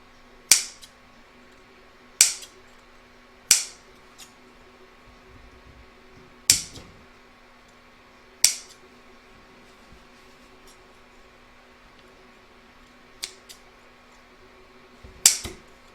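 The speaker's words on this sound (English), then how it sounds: "I'm just going to snip up to the stitch line so that it turns easily" Scissors snipping into stuffed-toy fabric up to a stitch line, a series of sharp, isolated close-up snips spaced a second or more apart against a quiet background.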